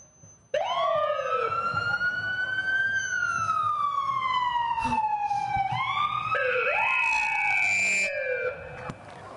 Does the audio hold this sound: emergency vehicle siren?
yes